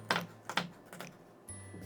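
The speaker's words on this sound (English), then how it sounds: "I'm going to cut those strips into little squares until we have our finely diced red pepper" A knife finely dices strips of red pepper into small squares on a cutting board, making three quick, crisp taps spaced evenly under a faint background hum.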